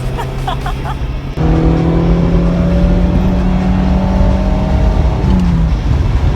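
Sports car driven fast in a controlled setting, engine droning loud and steady after a sharp shift, with a sustained high hum and road rumble close by.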